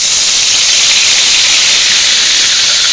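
Curry leaves hit hot oil during primitive outdoor cooking, producing a loud, continuous, close sizzle and hiss that holds steady throughout without any talk.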